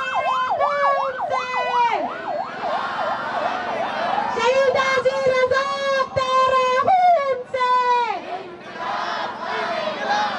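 An ambulance siren wails and yelps loudly at a Baloch solidarity protest rally in Islamabad, rising and falling continuously while a crowd shouts and chants around it.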